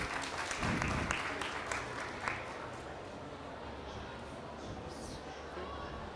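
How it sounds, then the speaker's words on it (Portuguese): Audience applause at a presentation event for the 550th anniversary of the Baronia de Alvito at the Ovibeja fair in Portugal, strongest at first and then fading into a steady, lighter patter of clapping. "Uma salva de palmas para o professor Dr."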